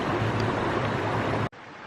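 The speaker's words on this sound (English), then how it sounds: "That's the edge of the waterfalls." Waterfall on the West Coast Trail, a dense steady rushing roar of falling water heard close, cut off abruptly near the end.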